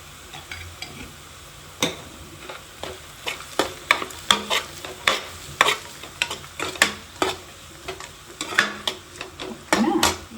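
Onions fry in a pan with turmeric while a spoon stirs them, giving repeated sharp scraping knocks in an uneven rhythm over a low, steady sizzle.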